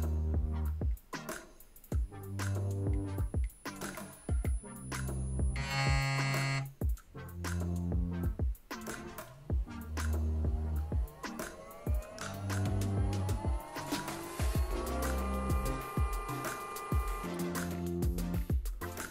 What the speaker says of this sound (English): You'll hear some noise and the motor will start running.